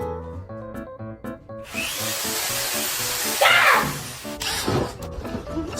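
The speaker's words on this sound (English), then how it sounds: "That's a drill bit!" An electric drill whirs loudly in bursts, with a steady high-speed run through the middle and scraping, rubbing noises near the end.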